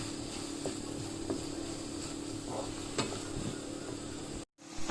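Sliced tomatoes toss in a pan for whole wheat focaccia, giving a steady low sizzle with a few soft stirring clicks, close by, ending in a brief cut.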